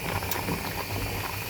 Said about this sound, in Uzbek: Mana bu yoqda 3 ta tuxum qaynataman, buni gazga qo'yib yuboramiz.